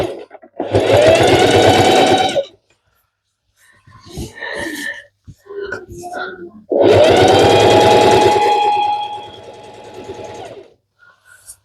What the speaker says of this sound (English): we're gonna sew as close to this line as possible.